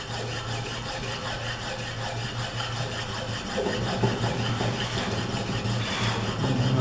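Steady, scratchy rubbing of abrasive on wood by hand sanding continues without a break, accompanied by a low constant hum.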